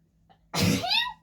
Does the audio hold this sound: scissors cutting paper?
no